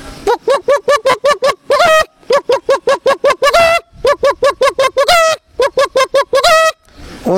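A person imitates a hen clucking after laying an egg: rapid, rhythmic runs of short clucks, each run ending in a longer drawn-out squawk, repeated several times, loud and close.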